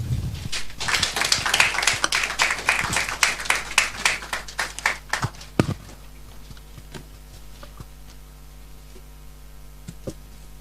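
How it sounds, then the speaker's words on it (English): An audience gives a round of applause at a talk on sanitary pad taxes and girls' school attendance, dense clapping for several seconds that thins out into a few scattered claps before a quiet room. "With a round of applause, shall we welcome Miss Wendy Lai."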